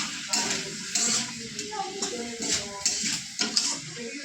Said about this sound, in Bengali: সামান্য একটু জল দিয়ে তরকারিটা কষিয়ে নেবো।